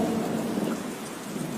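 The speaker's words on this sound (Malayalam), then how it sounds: "അന്ന് നല്ല മഴയായിരുന്നു." Steady heavy rain with rumbling thunder, a dense continuous wash of downpour close and fairly loud throughout, no voices.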